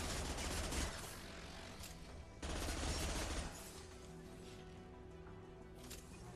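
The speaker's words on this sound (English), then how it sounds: "Watch where you're shooting." Sustained bursts of rapid gunfire rattle through a firefight in the video game Mass Effect 2, two heavy volleys separated by a brief gap before a quieter stretch of lighter shots and mechanical clatter.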